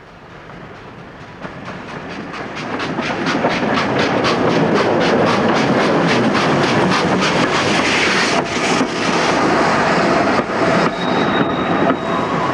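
A train arrives at a station, building from a low rumble into a loud, continuous roar with rhythmic clickety-clack of wheels over rail joints, close and steady throughout.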